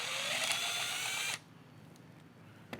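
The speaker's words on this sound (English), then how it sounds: "we're going to insert our Phillips head bit and get that screw removed first" A power drill fitted with a Phillips head bit backs a screw out of a Tippmann Cronus paintball marker, a steady high whine for over a second that cuts off abruptly, followed by quiet and a small click.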